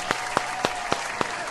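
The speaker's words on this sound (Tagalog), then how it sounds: "Palakpakan nga natin si Lord" A congregation applauds during a church service, a steady wash of clapping with a few sharper individual claps standing out at a regular rhythm, moderately loud and close.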